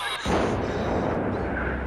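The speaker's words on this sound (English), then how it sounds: "A massive explosion at a British oil depot." A massive explosion at a British oil depot, caught on tape as a sudden heavy boom that bursts in at once and carries on as a loud, roaring, broadband blast.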